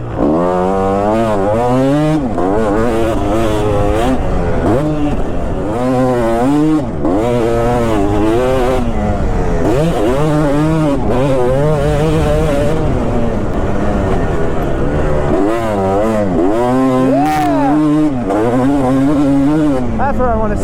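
A Kawasaki KX250 two-stroke dirt bike rides a deep sand track, its engine revving and winding up and down in constant loud waves for the whole stretch, with rider voices mixed in at times.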